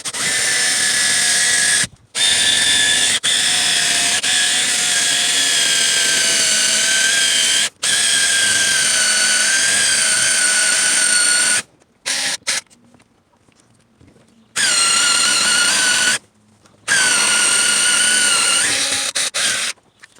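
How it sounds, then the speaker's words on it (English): A power drill bores a guide hole into a 2009 Audi A3 ignition cylinder, loud whining bursts of several seconds each broken by short pauses, close up with no talk. "I'm making like a guide point for the drill bit so it doesn't drill right off"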